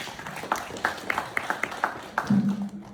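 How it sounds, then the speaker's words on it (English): A small audience at a tech meetup gives sparse, scattered claps, a handful of distinct hand claps spread unevenly, before a low voice begins. "Please, big round of applause,"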